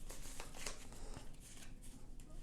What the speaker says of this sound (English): So I'm just going to shuffle these up and take 2 of them at random.